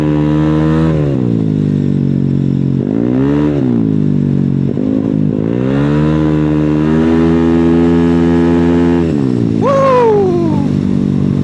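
A motorcycle engine with a modified silencer revs repeatedly up close, loud bursts rising and falling, ending with a sharp high-pitched rev that whines down.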